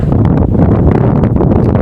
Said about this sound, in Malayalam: ഇപ്പൊ ചെറുതായിട്ട് വെയിൽ വന്നപ്പോൾ നല്ല കാറ്റാണ്